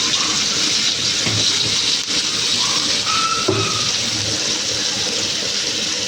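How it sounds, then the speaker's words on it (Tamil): Chopped small and large onions with green chillies dropped into hot oil, giving a steady, close, watery sizzle and hiss that runs throughout with a few faint clinks, no voices. "வெட்டி வச்சுருக்க சின்ன பெரிய வெங்காயத்தை போட்டுக்கிறது."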